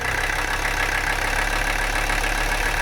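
A Mercedes 300CD diesel engine idles steadily, with a rough, even rumble and a clattery texture that stays constant and close throughout.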